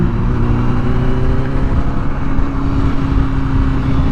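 A 1000 RR motorcycle engine drones steadily and loudly while riding, a close continuous mid-pitched hum with wind roar and no break over the whole stretch.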